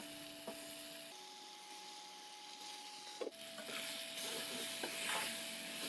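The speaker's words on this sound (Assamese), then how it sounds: "এতিয়া পাস্তাখিনি ঘন ঘনকৈ লৰাই থাকিব লাগিব" Pasta with pasta masala is stirred and fried in a pan over a medium gas flame, a soft, faint sizzle with scraping strokes, under a steady tonal hum and a brief knock midway.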